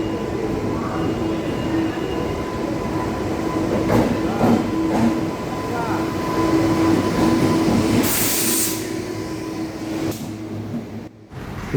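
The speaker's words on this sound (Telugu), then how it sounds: "ఇప్పుడు మనం ఈ ట్రైన్ ఎక్కి అరుణాచలం వెళ్ళాలి." Passenger train on the Vijayawada to Arunachalam route, its carriages rumbling steadily with wheel and rail clatter and a brief burst of hiss partway through, loud and close throughout with no talk.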